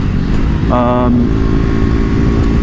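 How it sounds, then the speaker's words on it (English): KTM RC 390 motorcycle with its stock exhaust, the engine running as a steady, loud, close drone throughout, with a short tonal rise partway through. "The sound of the bike, let's talk about the sound."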